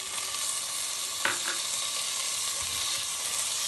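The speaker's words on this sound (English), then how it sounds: "Add the sprouted moong into it" Sprouted moong fries in a pan with browned onions and mint, a steady close hiss and crackle with one brief clatter partway through, and no talking.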